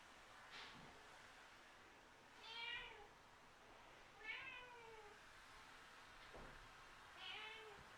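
A cat meows near a table, four separate drawn-out calls spaced a couple of seconds apart, fairly faint in a quiet room with no talking.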